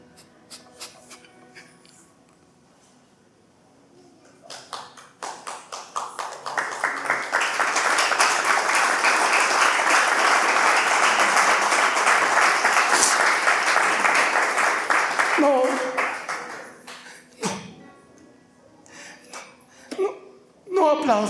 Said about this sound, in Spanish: No aplaudas.